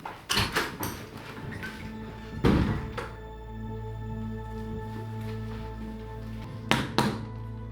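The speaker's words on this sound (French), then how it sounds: "tu as besoin de frapper aussi fort?" Loud knocking on a door, several heavy thuds in uneven bursts at the start and again near the end, with a low steady hum filling the gaps.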